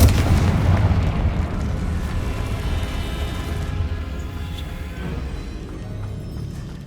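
Fire spell blasts in the video game Hogwarts Legacy, a loud, heavy rumbling explosion that booms at the start and rolls on with crackling debris for several seconds, no talking.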